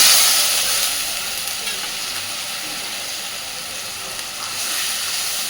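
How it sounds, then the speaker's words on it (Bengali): Masala spice paste for chhana kofta, splashed with a little water, is stirred and fried in a pan over a low flame. It gives a steady, loud, broad sizzling hiss that holds throughout with no voices. "খুব ভালোভাবে নাড়াচাড়া করে মশলাটাকে একটু সময় নিয়ে কষাতে থাকবে"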